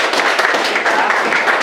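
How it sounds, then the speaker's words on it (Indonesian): A class of students clapping together in a teacher-training lesson, loud and close, a dense burst of hand claps with some voices mixed in. "Oke, tepuk tangan."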